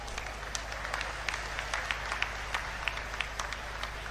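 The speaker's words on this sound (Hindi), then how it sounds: "एक बार जोरदार तालियां इनके लिए भी मार दीजिए।" Crowd applause at an outdoor political rally in Dadri's new grain market, a fairly faint, steady patter of clapping with a few sharper individual claps standing out.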